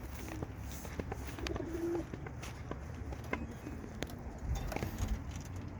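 Racing pigeons arriving at the loft after an old bird race coo softly and intermittently amid faint rustling and background noise, with no talking.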